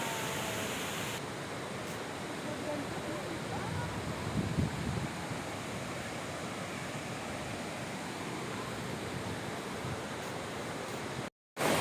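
Pinoy Falls in Mindanao roars as a steady broadband wash of falling water, continuous and fairly close, with a brief dropout near the end.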